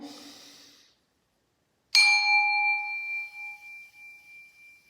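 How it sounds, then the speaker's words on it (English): After a faint breath and a brief silence during a chapel breathing exercise, a single bell is struck once, ringing clearly and sustaining a bright, shimmering tone that slowly fades away. "When I ding my bell"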